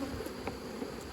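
Honey bees buzz around an open hive during a colony split, a dense, steady close-up drone with individual bees passing near.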